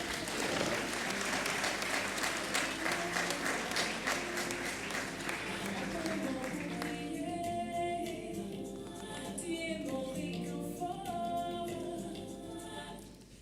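An audience at a ceremony in Abidjan applauds to welcome the district's minister-governor, a dense, steady wash of clapping that thins and softens toward the end, with faint voices mixed underneath.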